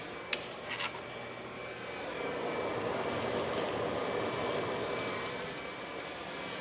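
Dried tomatoes drop into a pan of hot oil and softened onions. A soft tap comes first, then a steady broadband sizzle that swells and holds at a moderate level.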